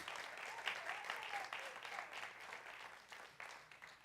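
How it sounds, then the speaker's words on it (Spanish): Applause from a church congregation during a sermon, a steady broadband patter of many hands holding at a moderate level, somewhat distant, for about four seconds with no speech over it. "Qué aplauso tan pequeñito"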